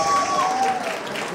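An audience at a student fashion show applauds, a broad, even wash of clapping and crowd noise with a voice speaking over it, close and loud.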